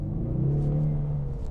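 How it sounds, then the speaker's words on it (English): A 2025 Ford Mustang EcoBoost exhaust gives a short, steady low rumbling drone with a faint humming tone, heard up close and alone. "the only noise that you will hear from this car, the major one, is that exhaust"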